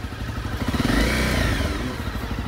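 A 2022 Honda CRF250L Rally motorcycle with very low mileage revs its single-cylinder engine up and back down in one smooth swell, loud and close with a throaty mechanical rumble and no talking.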